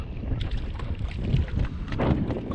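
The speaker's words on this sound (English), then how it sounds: "wind's kicked up for some reason" Wind gusting over open water around a small fishing boat at night while out crappie fishing in summer, a steady broad buffeting rush with low rumbling mic wind noise throughout, no talking.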